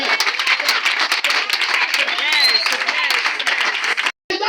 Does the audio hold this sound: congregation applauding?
yes